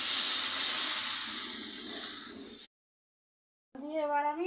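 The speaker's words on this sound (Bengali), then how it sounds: "এবার আমি জল দিয়ে দিচ্ছি।" Water poured into a pan of potatoes and spices while cooking an egg-and-potato curry gives a loud, steady hissing sizzle and steam rush for about two and a half seconds, then breaks off into silence before a voice speaks.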